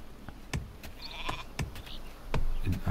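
Sheep in the strategy video game Northgard give a few short bleats among scattered clicks and ticks, moderately loud and fairly close.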